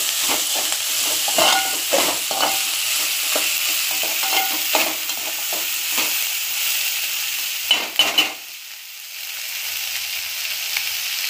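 Onion rice with curry leaves and coriander being stirred in a hot frying pan, a loud steady sizzle broken by repeated scraping stirs, with the frying fading sharply near the end.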